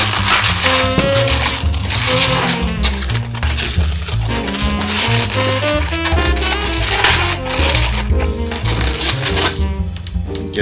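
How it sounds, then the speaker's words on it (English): Two modelling balloons being twisted together at a pinch twist, producing loud, close rubbery squeaks and creaking rubs that continue in bursts without a break, with no talk. "join the balloons together at the pinch twist"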